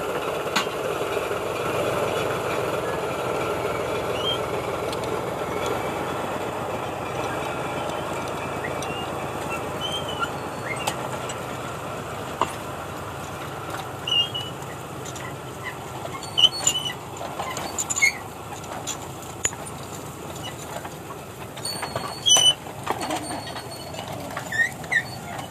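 A small locomotive shunting a train of sugarcane lorries on the east line of a sugar mill, with a steady low engine rumble and rolling-stock noise, plus scattered metallic clanks and squeals toward the end.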